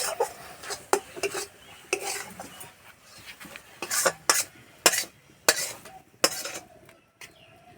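A spoon stirring a thick, sticky mixture of flour and milk in a pan, with repeated scraping strokes and clinks at an uneven rhythm, close and moderately loud.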